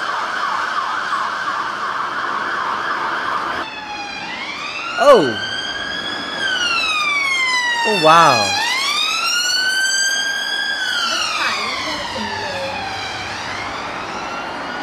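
UK emergency vehicle sirens play loud and close, first a rapid yelp and then long rising and falling wails sweeping back and forth, with a passing vehicle's roar and a brief exclamation from a voice.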